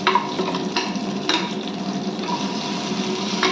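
Onion and tomato sauté in hot oil in a home kitchen pan, a steady close sizzle broken by several sharp bursts of scraping as the mix is stirred, with no voices.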